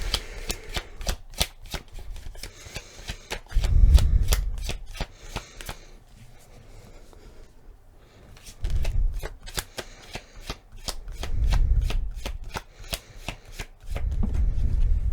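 A deck of tarot cards is shuffled up close in several separate rounds, each a quick burst of crisp riffling flicks, with short quiet gaps between the rounds.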